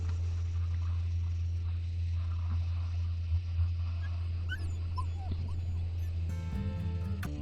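Hungry wolf pups in the video game WolfQuest whimper and yip in thin, high cries over a steady low hum, followed by a brief burst of game music at the end.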